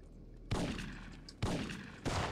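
Three loud, sharp blasts from a shotgun ring out in the video game Syphon Filter 3, evenly spaced, each with a quick boom and short decaying tail.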